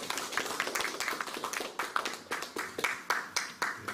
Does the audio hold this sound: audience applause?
yes